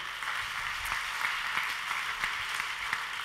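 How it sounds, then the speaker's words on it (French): An audience at the Palais Beaumont finale of a Pyrénées Chance 2014 game show applauds steadily, a dense, even wash of clapping heard from a distance and fairly faint. "Vous pouvez vous-même vous applaudir très fort."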